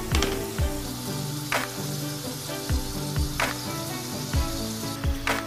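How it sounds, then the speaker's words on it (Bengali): An egg and potato paratha fries in a pan, pressed down repeatedly, giving a steady loud sizzle punctuated by regular thumps and spatula scrapes. "এরকম করে চেপে চেপে আমি ভেজে নেব।"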